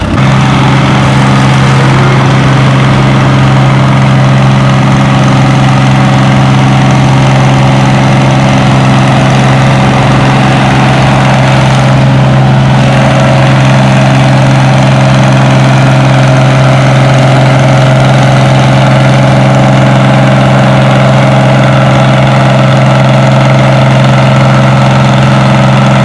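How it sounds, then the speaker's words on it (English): A Farmall 460 diesel tractor idles at a tractor pull, a steady, loud, low engine rumble with an even throb that runs unbroken throughout. "this time he's out here on his Farmall 460 diesel"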